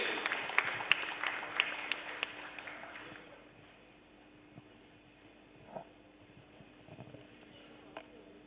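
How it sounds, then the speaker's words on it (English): A literature festival audience gives a round of applause, with distinct claps crisp and fairly close at first, then thinning out to scattered claps and a quiet hall. "Can we have a round of applause?"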